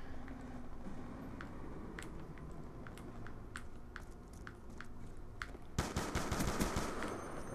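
Gunfire in Black Ops 2 on the Wii U: steady, rapid snapping shots over a busy battle din, growing into a louder, denser burst near the end.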